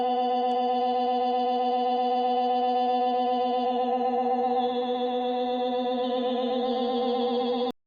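SND_night_pulse, a hidden sound from the game Deltarune, slowed down into a steady, droning tone with layered harmonic pulses that wobble slightly, holding evenly for several seconds before cutting off abruptly.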